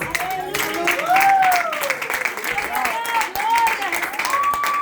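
A church congregation claps in praise during a service, a continuous patter of hands running beneath an excited preacher's voice that talks over it the whole time.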